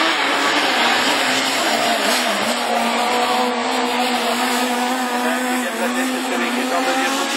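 Rallycross Super 1600 cars, including a Dacia Sandero and a Renault Clio, race at Lessay with a loud, sustained engine roar and tire noise throughout, dense and continuous without a break.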